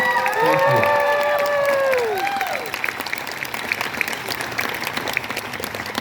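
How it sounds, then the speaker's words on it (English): Outdoor festival crowd at a Japanese festival's sumo wrestling event in a botanical garden breaks into loud applause, with cheers and whoops at the start. The clapping carries on steadily as the shouting fades. "Let's give him a hand of applause."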